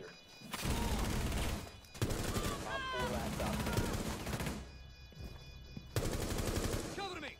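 Rapid automatic gunfire in Rainbow Six Siege, loud bursts of shots in quick succession with short pauses between volleys and game sounds mixed in.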